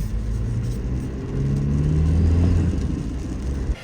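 A Land Cruiser 250 fitted with an SXTH Element intake pulls through a slow turn, a low droning engine rumble with a faint turbo whir that builds and eases.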